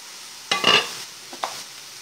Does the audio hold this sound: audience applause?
no